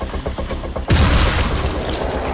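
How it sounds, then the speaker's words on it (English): A bomb blast inside the zombie video game Dying Light erupts suddenly after a quieter stretch of rumbling game noise, a single loud, close boom that keeps roaring and crackling for over a second. "that's a bomb"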